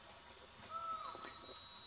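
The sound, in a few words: great black hawk calling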